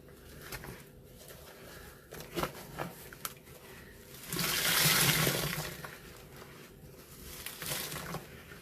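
Water draining and trickling from a squeezed sponge at a live sponge-squeezing session, soft patter that builds into a louder splashing gush midway, then tapers to quieter drips and crinkles.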